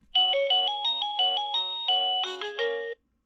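An eMarcos driveway sensor receiver plays its third alert chime, a quick run of tonal melodic notes for about three seconds, loud and close, with no talking.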